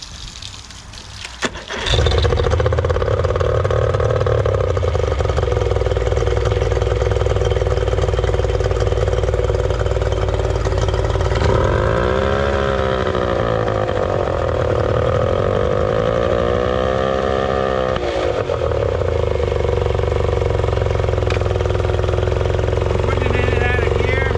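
A Yamaha 30 hp outboard engine, just back from an exhaust repair, cranks and catches, then runs steadily and loudly at a constant idle throughout, with a wavering pitch sweep partway through.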